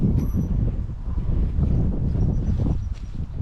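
Strong wind buffets the microphone outdoors in a steady, dense low roar with gusting rustle, close and fairly loud, no voices for the three seconds.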